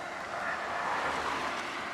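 A truck passing a cyclist on a main road: a steady, broad roar of engine and tyres swelling slightly as it goes by, close and moderately loud, with no talking.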